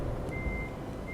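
Steady electronic reversing beeps from a truck in Euro Truck Simulator 2, a sustained tone repeating over a dense low engine rumble, loud and close with no talking.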